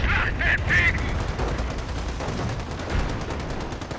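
Rifle and machine-gun fire in the World War II strategy game Company of Heroes, a dense scatter of sharp pops and bursts under a busy battle din, steady and mid-distance throughout.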